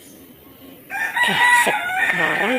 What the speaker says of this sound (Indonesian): itu suara ayamnya berisik sekali ya